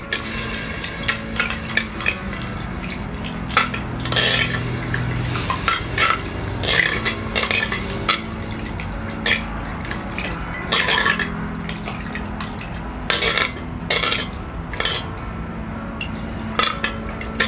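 A spoon scrapes and swirls through thickening onion soup in a pot during a live grilling cook, with steady sizzling underneath and repeated clinks of utensil against the pot over a long, continuous stretch.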